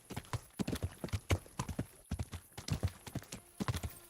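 A horse's hooves clip-clop at a steady walking rhythm in the medieval video game Kingdom Come: Deliverance, sounding close and moderately loud with no talk over them.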